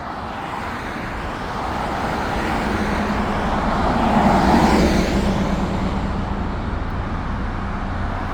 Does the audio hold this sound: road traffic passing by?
yes